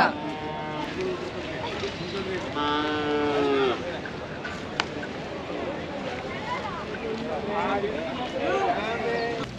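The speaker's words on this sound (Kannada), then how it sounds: "ತುಮಕೂರಿನ ಸಿದ್ಧಗಂಗಾ ಮಠದ ದನಗಳ ಜಾತ್ರೆಗೆ ಎಲ್ಲರಿಗೂ ಸ್ವಾಗತ" Cattle at the Siddaganga Math cattle fair in Tumkur, 2024, let out drawn-out lowing moos among steady crowd chatter and nearby voices, with animal and human sounds overlapping throughout.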